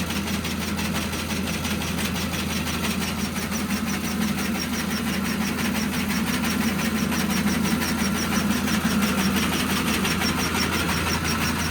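A grain winnowing machine cleaning seed runs continuously, a steady mechanical drone with a fast rhythmic clatter, loud and unchanging from start to end.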